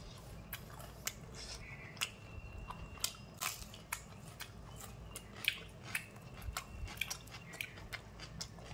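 Chicken pakoda being bitten and chewed, eaten with tomato sauce, green chilli and onion in a village setting; close, quiet crunchy bites and chewing clicks recur irregularly, with no talk.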